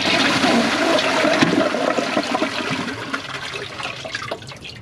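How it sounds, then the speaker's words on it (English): Kohler Wellworth Class 5 toilet flushing on a Portrait Lite tank: a loud, close rushing whoosh of water that gradually fades into gurgling and trickling refill over about five seconds. "Let's see how much stronger it flushes rather than my original tank"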